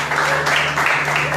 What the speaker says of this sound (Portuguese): Você pode aplaudir o Senhor pela vida deles?